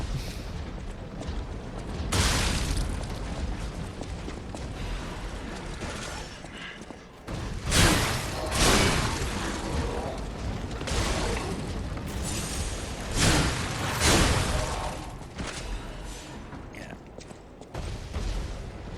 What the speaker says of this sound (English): This gate opens.